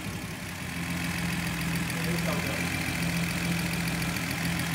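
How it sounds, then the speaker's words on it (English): A 1972 Datsun Cedric engine idles close by with a steady, continuous low rumble and a faint uneven shake running through the whole stretch. "we're gonna leave the engine on for another 5-10 minutes"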